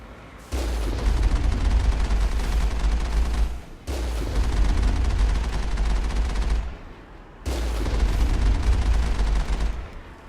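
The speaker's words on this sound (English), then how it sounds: "Oh, you stupid, worthless cannon." Cannon fire in the Mass Effect game on Xbox 360, three long roaring bursts of heavy gunfire separated by brief pauses, loud and close.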